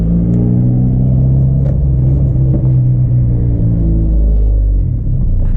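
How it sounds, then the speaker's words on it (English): A Ferrari engine drives past with a loud, deep, steady rumble and a slight rising rev, close by and continuous for several seconds with no talking. "I think that's a Ferrari. That's a Ferrari."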